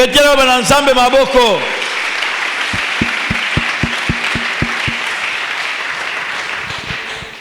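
A church congregation breaks into sustained applause right after a sung phrase ends, with broad, even clapping and a few sharper rhythmic claps standing out before it fades.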